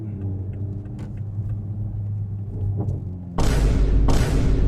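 A 2023 Toyota GR Supra 3.0 Premium idles with a low rumble, then its engine catches with a loud broadband roar, dips briefly and roars again, close to the microphone.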